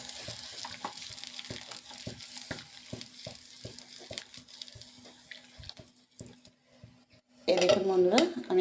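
Potato and raw mango sour dish being stirred in a pot after a bowl of water is added, with a spoon tapping and scraping in a steady rhythm, then a louder burst of watery sloshing and sizzle near the end.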